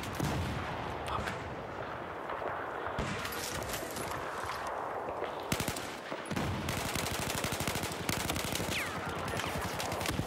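Gunfire in the video game Battlefield 4: rapid machine-gun bursts and scattered shots, dense and loud, with heavy explosive thumps.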